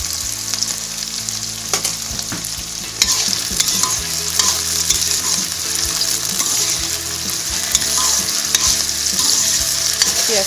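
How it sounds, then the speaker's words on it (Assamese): Sliced onions frying with sugar in a pan, with a loud, steady sizzle broken by frequent spatula scrapes and clinks of stirring. "পিয়াজখিনি অলপ ভালকৈ ভাজিবলৈ দিম ৰঙচুৱা হোৱালৈকে"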